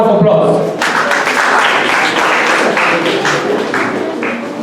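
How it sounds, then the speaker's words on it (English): Seminar audience applause after a motivational talk, a sustained wash of many hands clapping at close range, fairly loud and steady for several seconds, with a voice briefly audible at the start. "once again, a round of applause."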